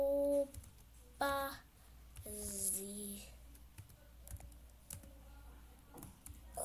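Quiet, scattered keystrokes on a computer keyboard tap out in short irregular bursts, close and soft, interrupted by a few brief electronic tones and clicks.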